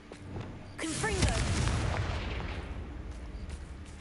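A Confringo explosive spell blasts in Hogwarts Legacy with a sudden loud boom that rumbles and fades over a few seconds, with a whistling swoop at the start and faint game sounds behind.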